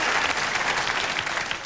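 Studio audience at a late-night talk show monologue breaks into steady, dense applause, a continuous wash of clapping throughout with no voices on top.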